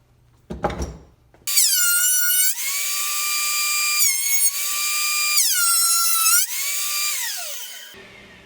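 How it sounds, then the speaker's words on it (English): A thickness planer whines loudly as wood boards for cutting boards feed through, with a rising motor spin-up and two long steady high-pitched cutting passes separated by brief drops in pitch, ending as the machine cuts off. "I'm going to run this through the planer a couple times"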